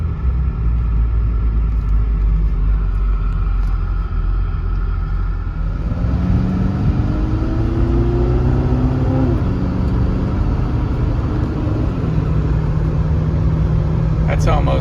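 A 1983 Porsche 928S engine and road rumble heard from inside while driving, loud and continuous, with engine tones rising and shifting as it accelerates partway through and someone talking over it.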